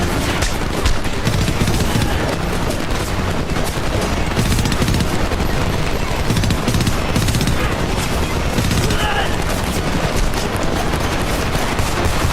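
Rapid, sustained machine gun bursts and overlapping gunfire fill a battle in the video game Homefront, loud and dense throughout with occasional booms and faint voices beneath.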